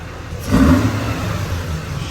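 A cold Mazda RX-8 rotary engine fitted with a long tube intake gives a short rev, rising briefly then falling back to a steady, fairly loud idle nearby.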